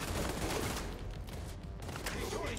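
Shotgun fire in a video game, dense bursts of blasts coming rapidly one after another, loud and close through most of the stretch, over a busy game soundscape.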